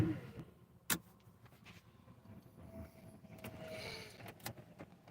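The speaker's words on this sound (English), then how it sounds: "so I gotta roll the windows back up in the car." A car's electric power window motor runs as the window rolls up outdoors on a rainy day, a low steady whir over about two seconds. A sharp click sounds before it and faint handling clatter follows.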